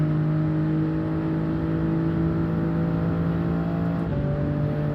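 Racing car engines from Gran Turismo 7 at Mount Panorama, a Toyota Supra among them, drone steadily and loudly with a sustained high whine, shifting pitch slightly near the end as the pack runs on.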